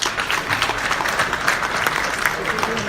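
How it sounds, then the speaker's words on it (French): A crowd at an Africa Day party applauds continuously with dense, steady clapping, moderately loud throughout, with possible voices mixed into the noise. "Let's applaud the Dean."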